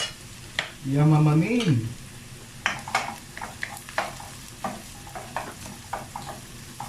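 A large amount of garlic frying in a pan, with a loud sizzle and stirring scrapes and clinks. A voice speaks briefly over it.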